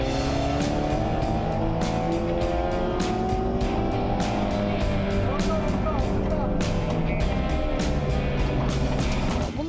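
Race cars roaring around a race track, loud and continuous engine whine with shifting pitch and occasional tire squeal, voices faintly mixed in underneath.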